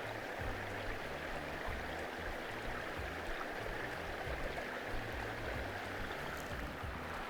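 Water flows along a small stream, a soft continuous rushing and trickling heard alone at low level, steady throughout.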